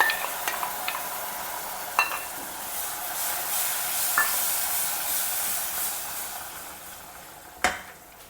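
Onion paste fries in a pan with roasted cumin and Kashmiri chili powder, sizzling steadily while a spoon scrapes and clinks against the metal in a few sharp knocks, with no talking.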